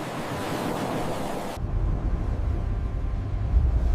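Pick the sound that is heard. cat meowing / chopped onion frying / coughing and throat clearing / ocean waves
ocean waves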